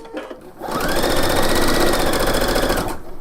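Close, loud sewing machine runs continuously for a couple of seconds while stitching a shawl, a rapid even needle rattle after a brief quieter start.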